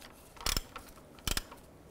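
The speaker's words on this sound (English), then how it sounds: "Now the center itself should be able to unspin or spin off using our 3/8 ratchet here." Two short ratcheting bursts from a 3/8 ratchet working loose the oil filter cap on a 2012-2017 Toyota Camry, each a quick clicking pawl run, close and fairly quiet with a pause between.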